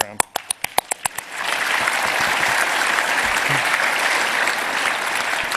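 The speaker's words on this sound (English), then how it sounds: "They need a round of applause." At a technical conference talk, a few sharp separate claps quickly swell into full, steady audience applause that holds evenly to the end.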